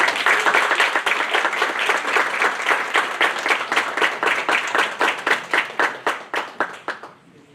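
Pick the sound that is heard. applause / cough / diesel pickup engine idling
applause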